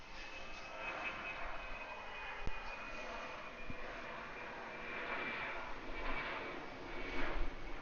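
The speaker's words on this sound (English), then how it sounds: "Alright, so looks like here goes United. He's on the takeoff roll now." A United airliner jet on its takeoff roll at Atlanta airport, heard as a sustained, moderately distant engine roar that swells toward the end with no talk.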